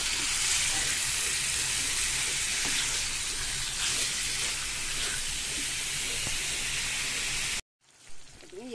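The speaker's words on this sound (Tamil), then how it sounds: "இந்த எறாவை போட்டு வதக்குறேன்." Prawns sautéing in a hot pan for prawn gravy, giving a steady, dense sizzle with spitting crackles that runs unbroken for several seconds before cutting off abruptly.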